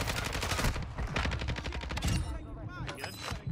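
Rapid gunfire bursts in the shooter game Warzone 2 crackle loudly and repeatedly, with shots overlapping in quick succession and some game sound effects throughout.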